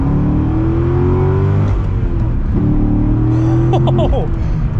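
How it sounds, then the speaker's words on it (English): Chevrolet C6 Corvette Z06 accelerating hard, its engine note climbing loudly in two rising pulls with a brief break between, heard close from inside the car with a voice speaking over the engine near the end. "So we're gonna get our acceleration here with the Z06"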